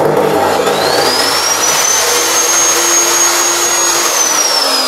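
DongCheng circular saw running through a soft start device on a low-wattage household supply, a loud continuous high whine that ramps up and holds steady throughout.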